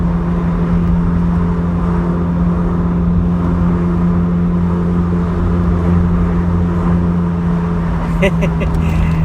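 The engine of a 1984 Vauxhall Cavalier Mk2 drones steadily from inside the car, with a strong, even low hum that echoes between buildings. A short burst of clicks or rattles comes near the end.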